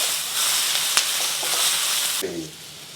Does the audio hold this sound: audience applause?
no